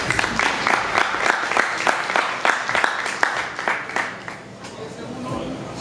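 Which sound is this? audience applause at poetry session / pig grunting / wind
audience applause at poetry session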